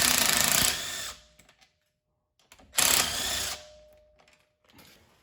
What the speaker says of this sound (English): we can just go ahead and undo the remaining threads with an impact